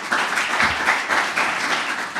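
An audience at a new studio's inauguration breaks into dense, steady clapping in honour of a local member of parliament, with the applause continuing unbroken and fairly loud throughout.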